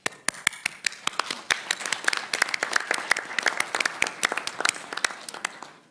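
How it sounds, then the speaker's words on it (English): A conference audience at an annual general assembly applauds its moderators, with sharp individual claps that thicken into steady, fairly close clapping and then thin out toward the end. "let's have a round of applause for our moderators for their"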